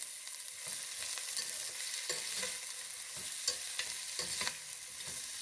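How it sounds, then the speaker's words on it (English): Chopped onion sautéing in a pan for kande pohe, a soft continuous sizzle broken by repeated scraping stirs of a spoon, close and fairly quiet with no voices. "Then goes the onion. Now we're going to mix it well. We have to just saute it for a while."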